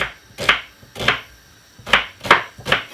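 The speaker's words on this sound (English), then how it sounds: "This is 1 white onion, which I'm going to cut up" Five distinct knife chops on a cutting board as a white onion is cut, sharp close thuds in an uneven rhythm with short quiet gaps between, no talking.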